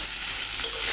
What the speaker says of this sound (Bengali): এবার মাছের সঙ্গে পেঁয়াজ আর মরিচটা আস্তে আস্তে ভেজে নেব